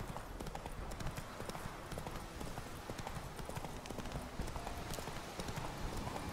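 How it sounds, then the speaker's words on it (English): A horse gallops in The Witcher 3, its hooves pounding in a fast continuous clatter, close and steady throughout over game ambience. "you can go to a full gallop."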